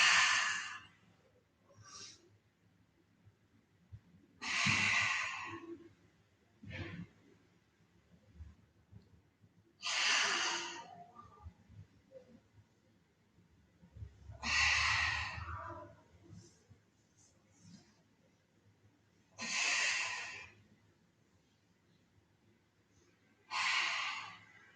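Slow, deliberate breaths during a Pilates ab workout on the waist and lower abs: six loud, drawn-out breaths, each several seconds long, spaced about five seconds apart, with soft rustling and faint clicks between them.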